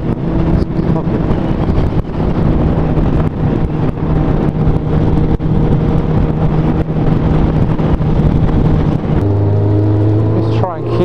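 A car engine burning oil, its steady drone and road roar held at moderate revs under a continuous hum, with a brief shift in engine tone near the end; someone talks over it.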